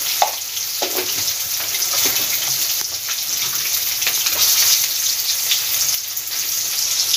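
Onion with ginger-garlic paste fries over medium heat in a pan, a continuous close sizzle broken by faint scrapes and clicks of stirring, with no voices.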